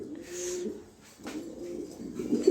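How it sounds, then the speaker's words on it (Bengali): A female Shoking pigeon coos softly nearby, a couple of low rounded throaty calls with a brief gap between them, heard alone. "এটা কিন্তু মাদি কবুতর"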